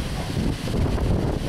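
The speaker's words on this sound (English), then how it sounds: "this isn't really so much a storm video as it is a video showing how windy it is" Extreme wind in Hollandtown, Wisconsin, on the windiest day on record, roars steadily and loudly, buffeting the microphone with constant rumble and rushing gusts.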